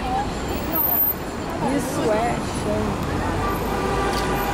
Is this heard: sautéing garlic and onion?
no